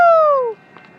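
Caltrain train 288 arrives with an F40 locomotive leading, its horn sounding a loud two-tone blast that fades away, followed by faint rumbling.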